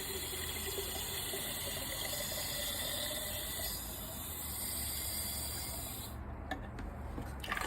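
Water pouring by the quart into a bucket for soaking coco coir before starting seeds, a continuous splashing pour that thins out and ends with a few drips and clunks.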